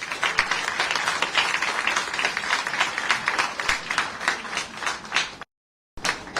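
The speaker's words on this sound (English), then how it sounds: "A big round of applause." Audience applause welcoming Finance Minister Nirmala Sitharaman at a public event in Puducherry: dense, steady clapping from a crowd for about five seconds, then a brief dropout to silence before the clapping resumes.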